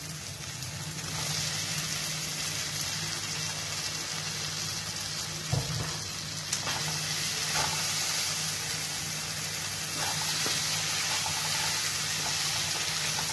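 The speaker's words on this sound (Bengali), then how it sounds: "এবার আলুটা দিয়ে দিব।" Potatoes dropped into a hot frying pan for a potato and capsicum dish give a steady, close broadband sizzle with a couple of sharp clicks partway through. No one speaks.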